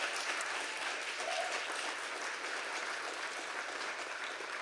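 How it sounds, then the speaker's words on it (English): Steady applause from a crowd at a Dartmouth campus climate event, a dense wash of clapping that stays even and continuous throughout. "So a round of applause for them."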